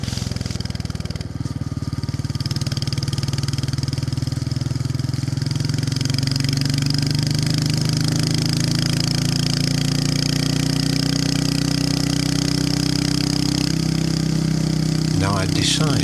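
A Royal Enfield motorcycle engine runs steadily and loud, close up, with a low thumping idle that rises as the bike sets off, sustained for the whole stretch.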